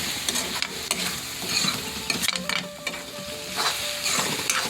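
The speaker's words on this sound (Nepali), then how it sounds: "2टा अन्डा मिसाउँछु म अब मजाले चलाउने हो" Homemade atta keema noodles are stirred in a hot pan after two eggs go in, with steady sizzling frying and repeated scraping, clattering strokes of the spatula, close and with no talking.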